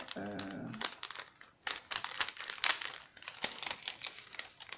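A plastic sachet is handled close by, crinkling and rustling in irregular bursts, preceded by a brief voice at the start.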